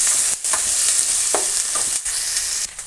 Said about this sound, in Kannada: ಈರುಳ್ಳಿ, ಆಲೂಗಡ್ಡೆ, ಕರಿಬೇವಿನ ಸೊಪ್ಪು ಮೂರನ್ನು ಫ್ರೈ ಮಾಡ್ಕೋಬೇಕು